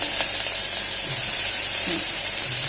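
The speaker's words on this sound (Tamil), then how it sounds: "பெரிய வெங்காயம்னா கட் பண்ணி வச்சுருக்காங்க, அதை போட்டுக்கிறோம்" Chopped big onions drop into hot oil with cloves and fry, producing a loud, steady close sizzle and hiss with faint utensil sounds and a brief voice.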